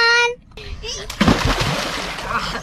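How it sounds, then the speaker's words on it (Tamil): Swimmers splashing in water at Pichatur Dam, a burst of sloshing and splatter that starts after a moment of quiet and carries on in a busy wash, with children's voices and chatter mixed in. "கூமாப்பட்டி மக்கள் ஒரு வழியா நீச்சல் அடிக்க ஆரம்பிச்சிட்டாங்க."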